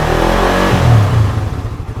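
A Suzuki Satria F150 motorcycle engine revs up loud and close, climbing past about 4500 rpm, then drops back into a pulsing, uneven idle.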